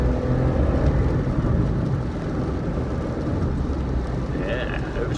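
A Citroen C1 drives along a country road and overtakes a tractor, its small engine and tyre rumble forming a loud, continuous low drone heard from inside the cabin.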